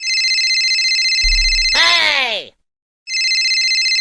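A loud electronic phone ringtone trills steadily, interrupted briefly by a swooping tone and a moment of silence before the ringing resumes.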